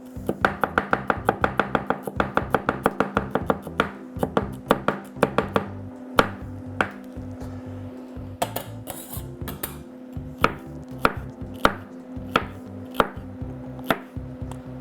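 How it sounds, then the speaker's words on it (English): A knife chops celery on a cutting board while chili is being prepared, first in a rapid even run of crisp close knocks, then slower, more irregular strokes with occasional clatter. "Celery is much easier to cut, a lot softer."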